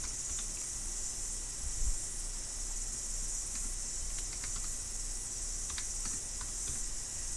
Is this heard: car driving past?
no